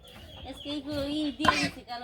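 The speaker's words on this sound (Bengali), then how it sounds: "হাঁস মুরগি ছেড়ে দিমু" Village chickens give a few short, soft clucks close by, a brief rising and falling call with a quick scuffle partway through, in a quiet rural yard.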